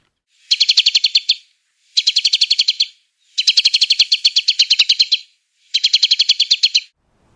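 A nectar-feeding bird gives four bursts of rapid, buzzy chattering notes, each lasting about a second with short pauses between, heard clearly against a quiet background.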